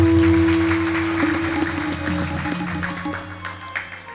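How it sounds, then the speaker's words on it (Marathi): An audience at a Varkari religious storytelling program applauds in honor of the village people who worked to build a Ram temple. The clapping is steady and dense, fading slightly, with sustained instrumental tones beneath. "टाळी वाजवा"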